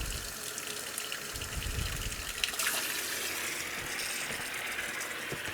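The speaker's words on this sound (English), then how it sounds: "So I'm just going to put in literally some tepid water." Tepid water pours steadily from a tap into a sink, a constant soft rushing splash with no voices.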